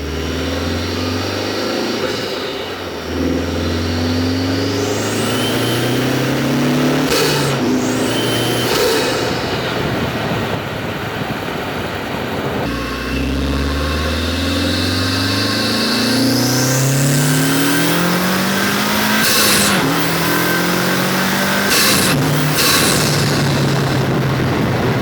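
Honda Civic Type R FL5 engine fitted with stock and performance intakes during road testing, loud repeated revs climbing through the gears with rising and dropping pitch sweeps, strong intake roar throughout, no talking.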